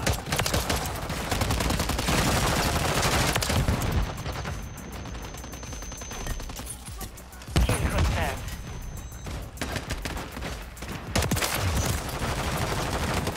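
Dense video game gunfire fills a first-person shooter match, with rapid bursts and repeated shots of a COR-45 pistol and other weapons, loud and close, broken by short lulls with other game sounds.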